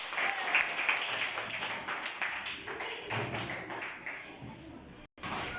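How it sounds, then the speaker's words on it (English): Scattered classroom clapping during a science lesson on seawater desalination, uneven taps from several students with some chatter and shuffling around it, fading briefly near the end. "Clap him. Clap him."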